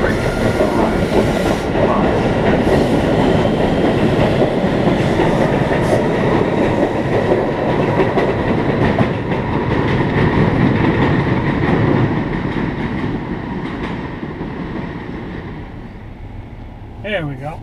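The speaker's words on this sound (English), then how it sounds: "The next Wonderland train arrives." A Boston subway train bound for Wonderland rumbles loudly into a station with a steady roar and clatter of wheels, slowly easing off toward the end, with a brief squeal at the close.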